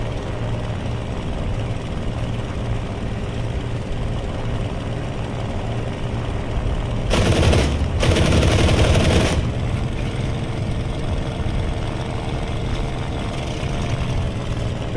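Engine drone of an IL-2M attack aircraft in a flight video game, steady throughout, with a loud broadband burst of the rear gunner's machine-gun fire around the middle lasting about two seconds.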